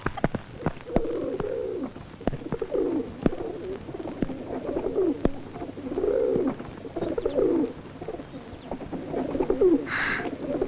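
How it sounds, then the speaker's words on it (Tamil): Pigeons or doves coo in repeated soft, low, rolling phrases, steady and moderately close, while sharp clicks and light background noise run underneath and no one talks. "இங்க பேர்ட்ஸ் எல்லாம் இருக்கே"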